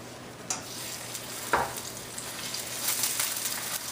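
A cheese quesadilla cooking in a pan with a little olive oil gives a soft, steady sizzle, with a few brief scraping or stirring knocks, fairly quiet and with no talking.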